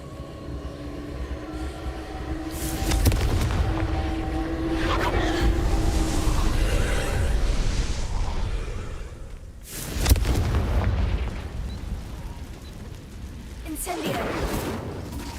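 Confringo blasting spell in Hogwarts Legacy, heard as loud rumbling booms with a sharp burst near the middle, thick low-end roar throughout and game sounds layered over it.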